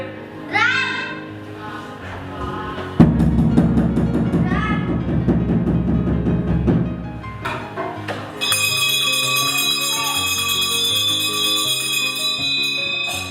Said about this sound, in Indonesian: Lonceng ya.